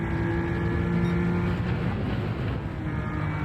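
Race car engine in Gran Turismo 7, a steady loud droning roar that dips slightly partway through, as with a gear change, heard close with no voices.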